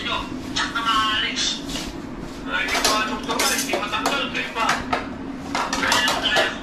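Dishes and a serving ladle clatter as food is dished out at a Filipino family meal, with repeated clinks and scrapes running throughout under lively, overlapping conversation nearby.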